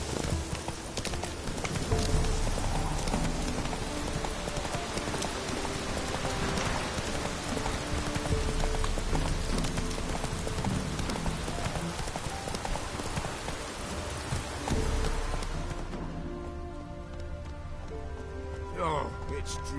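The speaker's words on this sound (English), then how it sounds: "Oh, it's drizzling." Light drizzling rain patters in the video game Witcher 3 while a horse's hooves clip-clop steadily beneath it, fairly close and continuous, quieting toward the end with brief voices heard.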